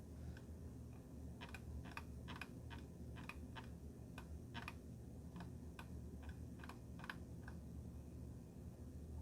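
Soft, quiet key clicks from typing on a Logitech MX Keys keyboard come in short irregular bursts over a low steady room hum.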